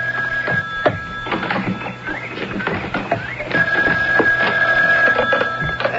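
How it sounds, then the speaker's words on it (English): A telephone rings with a steady electronic tone that repeats and holds through much of the stretch, mixed with clicks, clatter and other busy background noise. "There's the phone."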